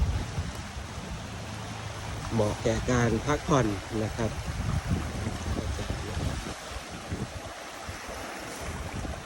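Small waves wash steadily onto a quiet little sandy beach at Ao Yang, Laem Sing, making a constant soft surf-and-wind hiss under a man's close, continuous talking.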